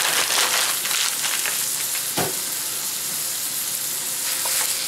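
Lean ground elk browning in leftover bacon grease in a pan, a dense continuous sizzle and crackle with scraping as a utensil breaks the meat into chunks, one sharper clack midway, no talking.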